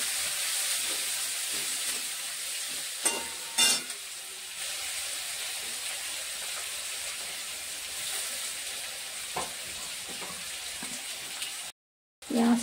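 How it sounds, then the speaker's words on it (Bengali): Chopped onions sizzle steadily in a hot pan, with short bursts of stirring and scraping breaking through the constant frying hiss, then a brief drop to silence near the end. "ভালো করে পেঁয়াজটা এবার একটু ভেজে নিতে হবে।"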